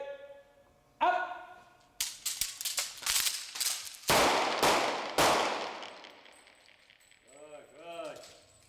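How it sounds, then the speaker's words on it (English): Pistol shots ring out during a police shooting drill on a range, a series of loud sharp cracks with echoing tails, some in quick pairs, preceded by a shouted command. "bring the weapon up, hit the silhouette, make it go bang one time"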